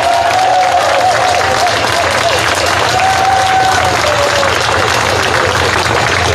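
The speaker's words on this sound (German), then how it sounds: "Applaus" Outdoor political rally crowd at a town festival in Nordhausen clapping loudly and continuously, with some cheering and a faint tonal sweep above the dense applause.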